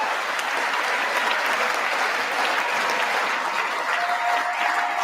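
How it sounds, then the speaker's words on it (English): Sustained, dense applause from a large audience at the State of the Union address fills the space evenly and loudly, with no breaks. "look at those lemmings clapping"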